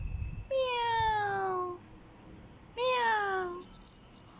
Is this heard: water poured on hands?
no